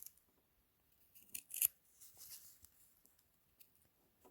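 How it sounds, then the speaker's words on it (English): Scissors snipping the corners of sewn fabric, a few quiet close crisp cuts in short clusters separated by near silence, no talk. "So let's go ahead and cut those corners."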